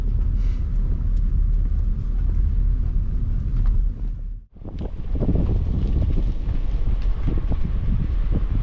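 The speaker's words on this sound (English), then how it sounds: "I got my windows rolled down, got a nice little breeze coming in." Car driving with windows rolled down, a steady rushing buffet of wind and road noise that briefly drops out mid-way before resuming, loud and continuous.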